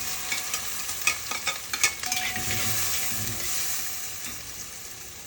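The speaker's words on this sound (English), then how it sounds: "And then you put your onions in there." Onions frying with cumin in a pan, a steady sizzling hiss broken by a run of scraping stirs and clatters, close and fairly loud with no voices.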